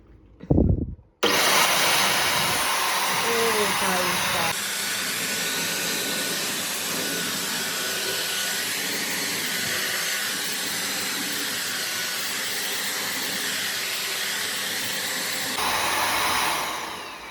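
An Agaro vacuum cleaner starts with a bump and then runs loud and continuous with a high whirring whine, shifting tone partway through before winding down after about fourteen seconds.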